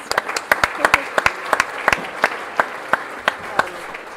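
Scattered audience applause at a mayor's arts awards ceremony, individual claps standing out sharply in an irregular rhythm across a modest crowd.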